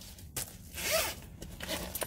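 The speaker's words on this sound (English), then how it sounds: "it has a two-way zipper on the top" A two-way zipper on top of a pink organizer pouch is pulled in one quick, close, crisp zip, with a couple of softer rasps and handling noises afterward.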